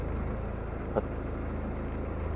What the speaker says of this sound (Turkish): Yarım devriyaj yaptığımda aracın sesi nasıl değişiyor?